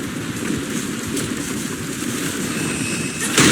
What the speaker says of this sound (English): The wind and rain are picking up.